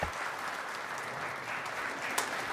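An audience at an Oktagon mixed martial arts event applauds, a steady wash of clapping sustained throughout, moderately loud and without a voice over it.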